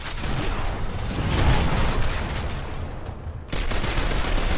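Rapid bursts of pistol fire and mechanical weapon clatter in the Gears of War Ultimate Edition video game, dense and continuous, heard up close.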